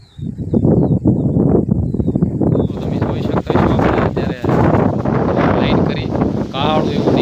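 Strong, gusty wind from a storm with heavy rain roars and buffets the microphone continuously, with loud rushing bursts and rattling throughout.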